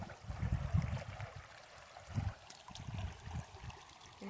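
A shallow creek trickles and gurgles softly close by, low burbling water with small splashes rising and falling, quiet and alone without voices.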